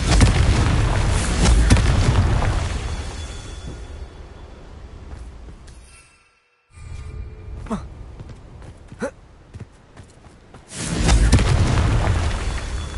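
Explosive blasts of the Confringo spell in Hogwarts Legacy, loud booming bursts with a brief silent gap midway, sharp cracks in between, then another heavy rumbling blast near the end.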